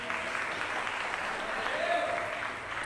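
Church congregation at a revival conference applauding, a steady wash of clapping from a crowd at moderate distance that holds for a few seconds and then tapers.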